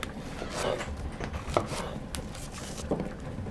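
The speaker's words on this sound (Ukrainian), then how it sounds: "Картоплю розріжемо навпіл." A knife cuts potatoes in half on a board, giving a few soft chopping thuds over a quiet background, with no talking.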